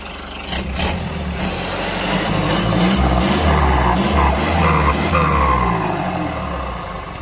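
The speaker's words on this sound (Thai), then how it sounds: "เบิ้ลเบิ้ลเบิ้ลเบิ้ลเบิ้ลท่อให้หน่อย" A Kubota L50 tractor's diesel engine, fitted with a turbo, revs hard and sustains a loud, throaty roar with a turbo whistle and hiss over the top, close by.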